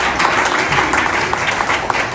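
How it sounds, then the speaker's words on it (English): An audience at a campus political rally for the NDC applauds in a dense, continuous wash of clapping. "Couldn't you applaud her for that?"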